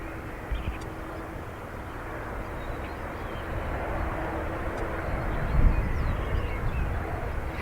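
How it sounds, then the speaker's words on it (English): Aer Lingus airliner at Dublin Airport, engines powered up and starting to move: a steady, broad jet rumble holds throughout, swelling slightly near the end, with faint bird calls over it and no talk. "The Boston is powered up and on the move."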